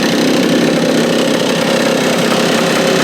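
A stand-up jet ski engine idling close by, a constant mid-pitched rumble with a slight rhythmic throb, unbroken throughout.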